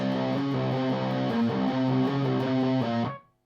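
A distorted electric guitar plays a quick riff of picked notes, loud and close, ending abruptly as the sound cuts off.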